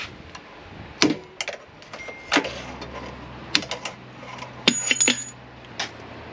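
A Honda ATC 70's bottom steering bearing race is punched out with a series of sharp, irregular metallic taps and knocks, close and distinct, with no talk.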